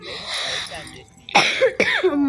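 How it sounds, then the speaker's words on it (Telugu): Two sharp coughs in quick succession, loud and close to the microphone, following a stretch of a person talking. "అందుకనే ఇన్నిసార్లు దగ్గు వస్తుందండి"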